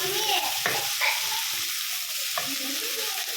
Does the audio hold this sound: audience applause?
no